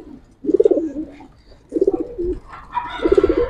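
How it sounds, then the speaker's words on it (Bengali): Giribaz high-flyer pigeons in a loft coo close by in three distinct rolling bouts, each a quick throaty burst spaced about a second apart, with quiet gaps between. "অনেক ভালো কবুতর"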